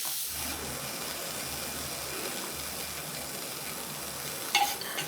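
Lightly salted carrots sauté in a pan for kimbap, producing a soft, even, continuous sizzle with a small stirring clatter near the end.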